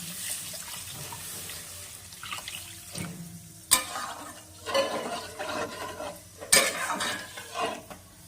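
Water is added to a pan of spice paste being cooked down for a chital fish curry, with splashing, stirring and clinks of a utensil against the pan, plus a couple of sharp knocks.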